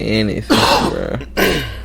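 A single throat-clearing cough breaks into casual speech, with voices talking before and after it.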